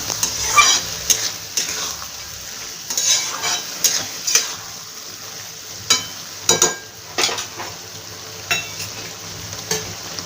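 Vegetable pulao with spices being stirred and fried in a pan, a continuous sizzle broken by repeated scraping strokes of a spoon against the metal at an uneven rhythm, close and fairly loud.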